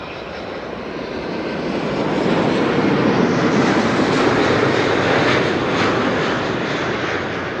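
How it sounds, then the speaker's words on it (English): A KLM Boeing 777 airliner, flight 760 arriving from San Jose at Amsterdam Schiphol, roars past as a loud, broad jet engine rush that swells after the first couple of seconds and holds steady, with no voices over it. "This is KLM Flight 760, arriving from San Jose, 777"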